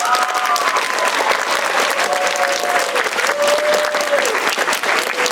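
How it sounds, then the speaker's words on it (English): Audience clapping during a stage musical, dense, sustained applause from a crowd lasting the whole span, with a faint whistle or cheering tone drifting above it. "please clap now"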